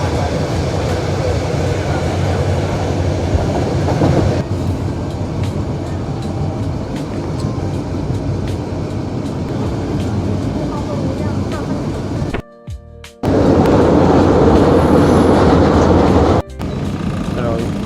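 A passenger train bound for Mawlamyine rumbles and rattles along the rails in a steady, loud, close roar, with voices talking over it and a brief dropout near the end.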